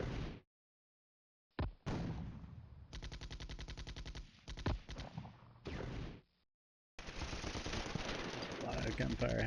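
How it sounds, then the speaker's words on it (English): Rapid machine-gun bursts and shots in the Cold War wargame Flashpoint Campaigns, loud and close, arriving in dense rhythmic volleys separated by brief silent gaps, with a sustained barrage at the end. "A lot of gunfire happening there."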